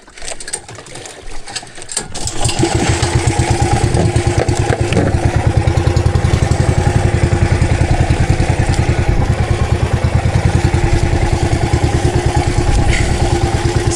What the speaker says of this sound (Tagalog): Palyado pa talaga makina.